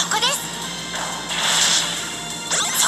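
Bomb dropping and exploding in the Pokémon Masters EX video game, a sharp crash followed by a sustained noisy burst and a second whooshing impact, with a voice briefly heard over it.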